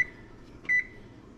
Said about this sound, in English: We're gonna set this timer